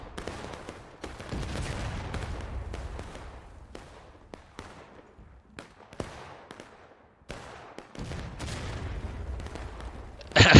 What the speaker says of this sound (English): we're seeing here CSA artillery pounding their own guys in these bushes here